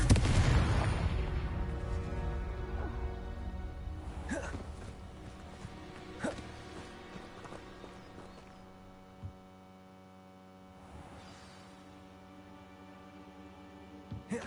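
Hogwarts Legacy Confringo spell blasts: a loud booming burst at the start, then a few sharp cracks and thuds scattered over a steady low hum and tonal background, fading quieter toward the end.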